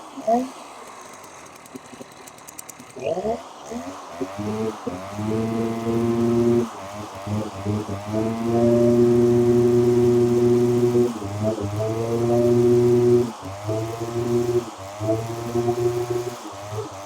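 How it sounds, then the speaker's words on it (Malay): A STIHL BR420 backpack blower engine starts with a few pulls and sputters, then runs loud and close, revving up and down in surges with a strong buzzing harmonic tone; no clear talk over it. "sekarang blower ni dah senang start lah"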